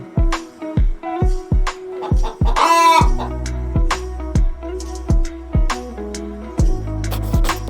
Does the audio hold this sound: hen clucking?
yes